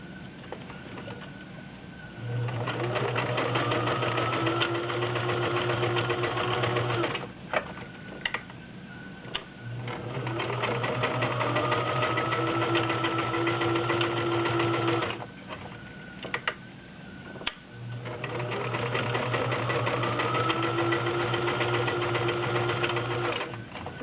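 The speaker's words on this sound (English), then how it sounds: "Let's go through the denim. I'm using a size 16 needle. 5 layers of Levi's denim." A vintage Kenmore model 1351 convertible sewing machine with a size 16 needle stitches through five layers of Levi's denim, its motor humming in three steady runs separated by short pauses.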